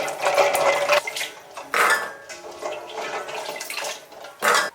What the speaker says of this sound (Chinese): 橄榄泡好了之后，用清水多搓洗几遍